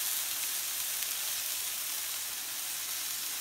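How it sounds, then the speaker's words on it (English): Steaks flambéed with brandy and herbes de Provence in a pan, giving a steady, close, bright sizzle and frying hiss with no break and no voices. "Doing a quick flambe."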